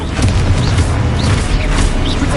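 Explosive spell blasts in the Hogwarts Legacy video game, a dense, loud, booming roar that fills the whole moment with continuous crashing rumble.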